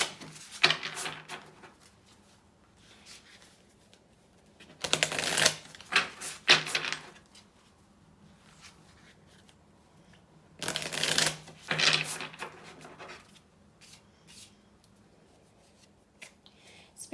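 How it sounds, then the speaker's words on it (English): A deck of tarot cards being shuffled in three short, crisp riffling bursts, close and clear, separated by quiet pauses in a calm indoor space. "let's shuffle and pull some cards"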